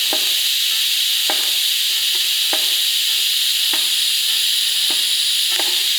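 TIG welding on a scrap piece with an ARCCAPTAIN 200P AC/DC welder gives a steady, loud high-pitched arc hiss, broken by a few brief sharp ticks spaced about a second apart, with no talking.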